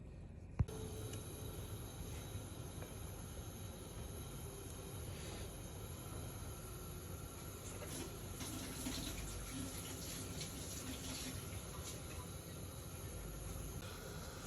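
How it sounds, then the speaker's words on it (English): Sauce draining from a tray of piri piri chicken wings, a steady watery pour and trickle with kitchen clatter, continuous and fairly faint throughout. "I'm going to drain the sauce out now"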